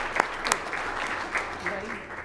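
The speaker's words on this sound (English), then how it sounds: "so very big round of applause for them" At a school board meeting, a room of people gives modest, fairly faint applause with a few distinct sharper claps, sparse and fading over a couple of seconds.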